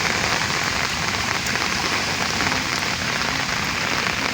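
Heavy rain falls steadily during a fishing outing, a dense, continuous hiss and patter of drops on surfaces that stays loud and even throughout with no one speaking.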